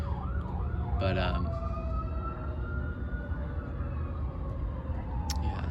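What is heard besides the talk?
sirens in the background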